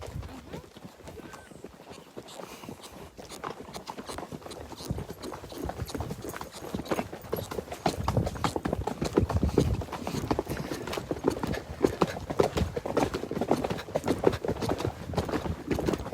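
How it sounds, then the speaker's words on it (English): Hooves of a ridden horse clip-clop in a steady, continuous rhythm close by on a horseback safari ride, becoming louder and busier partway through. "a little word about the horse I'm riding today"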